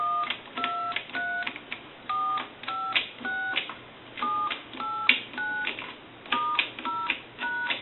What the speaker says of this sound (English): Now what we want to do is we want to go ahead and dial our numbers.